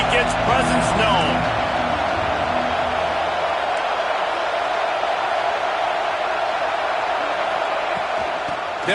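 A stadium crowd in a college football video game, Ole Miss against Alabama, roars as a loud, continuous wash of noise. A few brief thuds and shouts come at the start.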